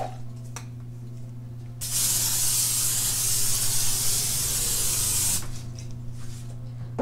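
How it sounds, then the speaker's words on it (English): A steady aerosol hiss of cooking spray onto aluminum foil lasts about three and a half seconds, with quiet background hum and faint handling noises before and after. "spray the aluminum foil with cooking spray"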